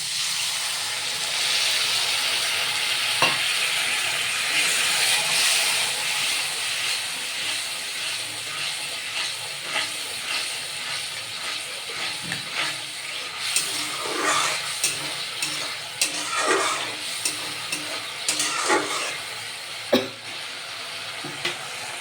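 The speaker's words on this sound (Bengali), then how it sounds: "মশলা দিয়ে তেল ছেড়ে দিয়েছে, আমি একটু জল দিয়ে দেবো।" Water poured onto spice paste frying in oil gives a sustained hissing, steaming sizzle across the whole stretch, broken by occasional light clinks and scrapes of a utensil in the pan.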